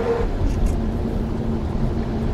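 A Hyundai Veloster N engine blips to raise its revs before a downshift into first gear: a steady, continuous engine drone that holds fairly level through the short moment, with no clear separate rev spike.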